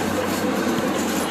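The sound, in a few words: amusement park train running on rails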